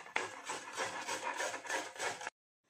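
Fresh coconut being grated by hand in a kitchen: continuous close rasping strokes for about two seconds, then an abrupt stop into silence.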